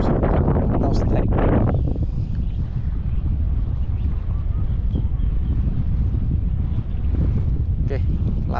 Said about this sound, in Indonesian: Angin mulai kencang.